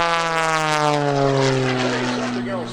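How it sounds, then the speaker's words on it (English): Cap 580 aerobatic plane at an airshow, its propeller engine droning loudly with strong harmonic tones that slide slowly downward as it passes by overhead. "You can see how fast this airplane can go."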